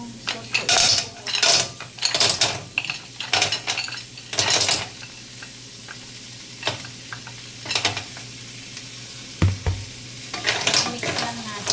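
Stir-fried kohol snails in sauce are stirred in a pan, with loud, rhythmic metal clanks and scrapes of the spoon over a low sizzle. A few stronger knocks and short pauses break the stirring.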